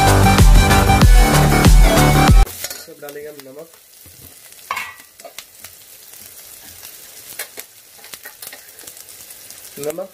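Chopped vegetables for veg Manchurian fry in a pan after a loud, dense opening burst of sound, then settle into a quieter, steady sizzle with occasional stirring clatter.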